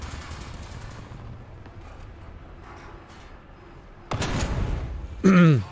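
Gunfire in the tank combat game War Thunder: low game rumble builds to a sudden loud burst of firing near the end, followed by a short tonal blast.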